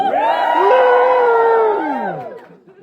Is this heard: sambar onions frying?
no